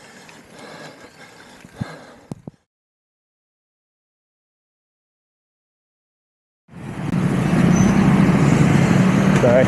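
Baguio city road traffic in the Philippines rises after a silent gap as a loud, steady wash of car and engine noise, preceded by fainter vehicle sounds and a few knocks.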